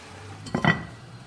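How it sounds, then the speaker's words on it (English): A pot lid set down on a pot of Uyghur lamb pilaf (Xinjiang zhua fan) gives a quick pair of close metallic clanks, then quiet. "Lid on,"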